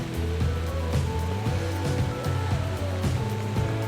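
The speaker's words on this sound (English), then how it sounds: "there is plenty of rain falling on the pond" Rain falling on a pond during a sailing regatta makes a steady broadband hiss, partly masked by a loud low droning hum and tonal whine that run through the whole stretch.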